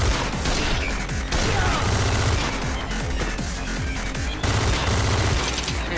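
Dense bursts of gunfire and rapid machine-gun fire pound through a Madness Combat animation, with booming impacts mixed in, continuous and loud throughout.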